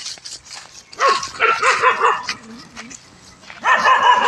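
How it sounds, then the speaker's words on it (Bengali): Dogs bark outdoors in repeated bursts of several sharp barks, fairly close and loud, with short pauses between volleys. "আর ওদিকে কুকুর ভুকাভুকি করছে আর কি"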